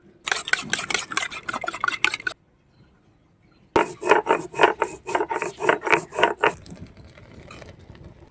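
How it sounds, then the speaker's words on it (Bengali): Cashews being ground by hand on a stone, a dry repeated rasping rub in two bursts separated by a short pause, close and fairly loud with no talking. "কাজুটা আমি বেটে নিচ্ছি।"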